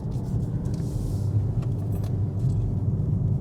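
A Ford Focus ST with 286 hp drives through tight curves, its engine and road noise forming a steady low rumble heard from inside the cabin, with light rattles and clicks on top.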